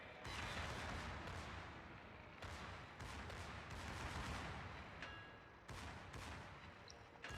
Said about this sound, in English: Texas guns hit very hard